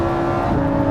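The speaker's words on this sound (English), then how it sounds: "So foot down there and ping, it just fires down the next straight." A 631bhp 2019 Lamborghini Huracan Evo supercar accelerating hard down a race track straight, a loud continuous engine roar that holds steady throughout.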